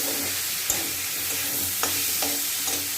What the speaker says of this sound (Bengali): এবার দেখো এটাকে কষছি